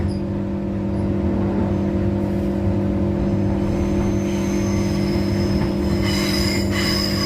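Transperth A-series train wheels rumble and clatter over the rails under a steady hum, with faint squealing and clicks near the end as the carriage crosses over onto another track.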